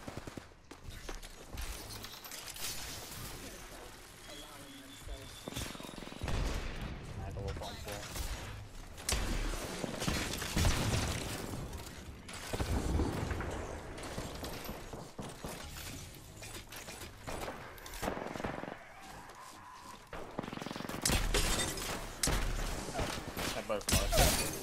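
Video game gunfire comes in rapid bursts and scattered sharp shots with shattering impacts across a busy, noisy stretch. Players talk over the action.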